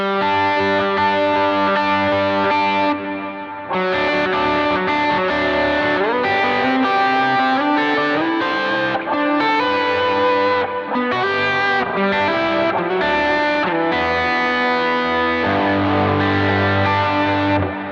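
Distorted electric guitar played with a mix of pick and fingers, notes and chords plucked in quick bursts with short pauses, loud and close.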